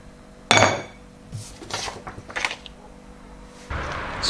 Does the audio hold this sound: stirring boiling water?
yes